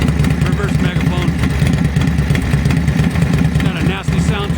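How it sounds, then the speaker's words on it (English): A loud Harley WL/WR street tracker engine with reverse megaphone exhaust, high compression and aggressive cams idles with a rough, uneven, lumpy rumble, close by and continuous, with occasional blips of revving. "It's got a nasty sound to it with those cams and that high compression."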